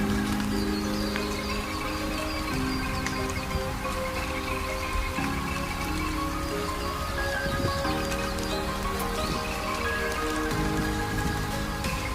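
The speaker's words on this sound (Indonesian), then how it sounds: "Sepertinya hari ini akan turun hujan terus" Steady rain pours down continuously at a campground in Pinus Ecopark, Puncak, Bogor, a dense hiss of drops pattering on a surface, with no voices and an even, close texture throughout.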